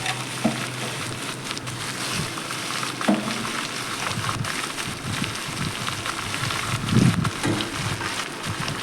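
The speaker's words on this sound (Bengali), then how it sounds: "এবার চিংড়ি মাছ দিয়ে আমি ভালো করে নাড়াচাড়া করে চিংড়ি মাছটাকেও ভেজে নেব।" Prawns tossed in a pan with fried onion: a dense, hissing sizzle fills the clip, broken by occasional scraping stirs and clatters from the spatula, loud and close with no talking.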